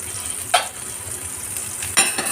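Butter sizzling in a pan while mashed potato with beef is being made, a soft steady frying hiss broken by two sharp metallic stirring scrapes of a utensil against the pan, with no talking.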